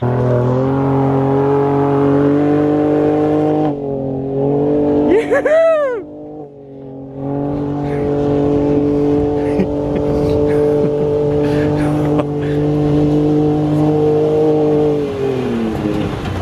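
A 2018 Ford Raptor's engine drones loudly and steadily while driving through desert sand, with a brief drop and a rising rev around the middle, under ongoing talk.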